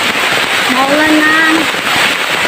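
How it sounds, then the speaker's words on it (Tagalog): Heavy rain pours down on a mountain climb in the rural provinces, a loud, dense, continuous hiss of falling water with a person's voice rising briefly over it. "Naabutan na ng ulan."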